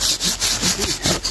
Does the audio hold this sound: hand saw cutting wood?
yes